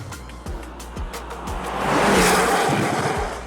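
A BMW XM plug-in hybrid SUV's 4.4-litre twin-turbo V8 revs in quick repeated blips that cut off at the limiter, then surges into a loud, sustained acceleration roar that swells and fades slightly, with no talking.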